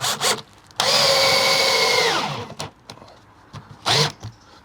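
Power drill driving fixings into a wooden joist in a budget workshop build, a loud whirring burst of about a second and a half that winds down, with short knocks and handling noises around it.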